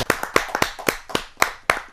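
Distinct, separate claps ring out for a poet at a televised Kavi Sammelan, around eight sharp claps in quick, slightly uneven rhythm, close and fairly loud with no talk over them.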